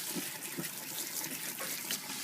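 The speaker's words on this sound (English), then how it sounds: "Give them a nice little rinse off." Tap water runs steadily over food being rinsed in a sink, a soft, even splashing flow with light movement as the pieces are turned.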